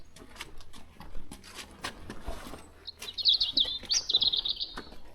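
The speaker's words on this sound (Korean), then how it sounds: "새소리 평화로운 거 보세요" Birds chirp and tweet in a quick, bright burst near the end, preceded by scattered faint calls and light rustling outdoors beneath apple trees on the Camino de Santiago between Triacastela and Sarria, Spain.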